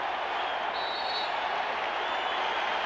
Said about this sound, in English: The crowd loves what they see.